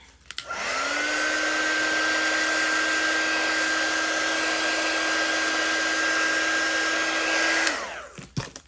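A handheld hair dryer runs steadily for about seven seconds to dry chalk art on a surface at home, switching on and off with a sharp clicks and a loud, constant whooshing hum, close to the microphone with no talking.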